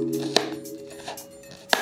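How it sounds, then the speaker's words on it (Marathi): A knife chops garlic finely on a board, giving a couple of sharp, spaced thuds with softer cutting taps between them over a faint steady hum. "अशी बारीक कटिंग करायची लसूण।"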